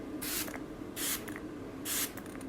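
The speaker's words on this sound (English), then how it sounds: "I'm just gonna go ahead and spray my face with some setting spray." Three short hissing bursts of Iconic London luminous setting spray misted onto a face, close and crisp with pauses between, no talking.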